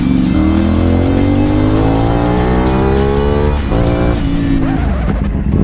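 A loud, close CF Moto 450SR motorcycle with a raspy aftermarket Akrapovic exhaust revs up through rising pitch, then drops and climbs again, with no talk.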